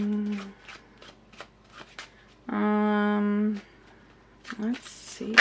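Tarot cards being shuffled by hand in repeated quick riffles and slides, close and clear, with a few brief bursts of talk and humming breaking in.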